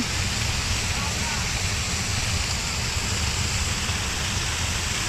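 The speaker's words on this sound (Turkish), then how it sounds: "gördüğünüz gibi su şelalesi buradan böyle akıyor" A waterfall in a German forest pours down steadily, giving a loud, continuous broadband rush of falling water that holds unchanged throughout, with no talking heard.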